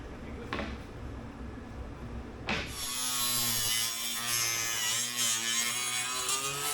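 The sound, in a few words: grinding out laminated core mat on dinghy hull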